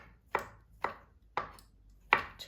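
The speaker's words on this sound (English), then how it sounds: "I use a whole 8 ounces of mushrooms, and I'm just going to slice these" Mushrooms sliced with a knife on a cutting board, four crisp evenly spaced chops about half a second apart, close and clear in an otherwise quiet room, no talking.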